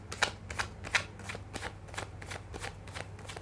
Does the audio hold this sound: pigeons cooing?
no